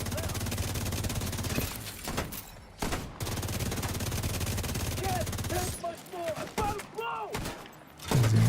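Rapid gunfire in a video game shooting down engineer sniper turrets: dense bursts of close automatic shots, pausing briefly, then resuming with sharp crackling hits and shattering debris.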